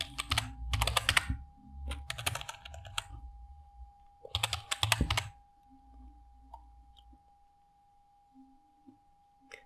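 Typing on a computer keyboard while setting up an options trading algorithm: two dense bursts of rapid key clicks, close and fairly loud, separated by quieter stretches with a faint steady tone underneath.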